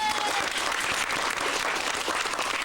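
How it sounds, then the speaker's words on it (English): Polite applause from an outdoor audience at a 1991 England-themed comedy stage show, a steady even wash of clapping that fills the whole moment with no voices on top. "Polite applause for the little child in the middle of the stage."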